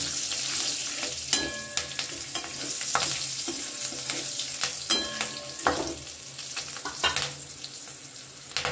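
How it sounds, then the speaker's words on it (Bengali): Black cumin seeds and slit green chillies sizzling in oil left from frying fish, a crackling sizzle broken by repeated clanks and scrapes of a spatula stirring in the pan. "মাছ ভাজার ওই তেলের মধ্যে দিয়ে দিলাম 1 চামচ কালো জিরে, আর দিলাম 3টে চেরা কাঁচা লঙ্কা।"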